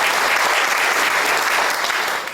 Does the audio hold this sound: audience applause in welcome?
yes